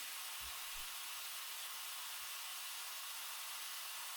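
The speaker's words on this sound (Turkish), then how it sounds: "yavaş yavaş buharın çıkmasını sağlayabilirsiniz" Steam hisses slowly out of a WMF pressure cooker valve in a steady, soft, airy stream that lasts the whole moment, with a few faint low knocks underneath.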